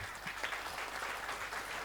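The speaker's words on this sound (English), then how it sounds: "I'll request all to please give a round of applause to" Attendees at an accountants' study circle meeting in a hall give a round of applause, a dense, even patter of clapping that is faint and distant and continues without a break.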